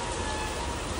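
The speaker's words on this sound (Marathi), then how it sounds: "आज नुसता पाऊसच चालू आहे" Rain falls in a steady, even wash of noise during a brief moment, with no voices.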